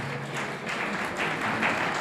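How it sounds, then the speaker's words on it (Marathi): A college event audience claps for their teachers in a dense, steady burst of applause that fills the room for a couple of seconds. "एकदा जोरदार टाळ्या झाला पाहिजे आपल्या गुरुजनांसाठी"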